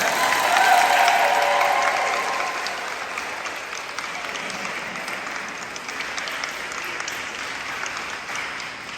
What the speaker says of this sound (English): Let's give a round of applause for Raney Cappel.